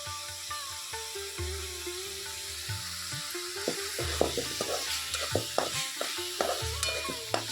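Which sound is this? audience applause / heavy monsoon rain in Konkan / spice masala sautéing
spice masala sautéing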